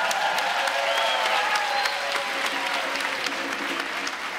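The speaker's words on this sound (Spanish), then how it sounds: "Un aplauso para las damas." An audience at a live anniversary stage show applauds, with thick continuous clapping and a few cheers or whistles rising above it, loud and sustained throughout.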